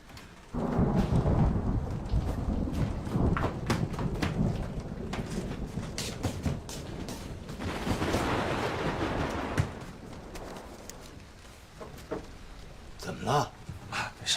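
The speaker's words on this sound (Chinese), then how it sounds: "下着大雨了，你疯了？" Heavy rain pours steadily with rolling thunder across a stormy night, loud and continuous throughout, with occasional voices heard under the downpour.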